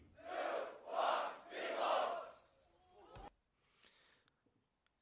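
Crowd at a beatbox battle in Tokyo shouting a countdown in three loud unison calls, followed by a short burst of cheering that fades into near silence with a few faint clatters.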